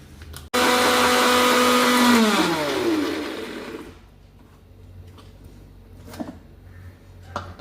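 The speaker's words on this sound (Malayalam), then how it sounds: "വെള്ളം ചേർക്കാതെ ഈ തക്കാളി ഒന്ന് അരച്ചെടുക്കാം." A mixer grinder jar blitzes tomatoes with no water added, starting abruptly with a loud motor whine that slowly drops in pitch before cutting off. A quieter stretch follows with a few light knocks.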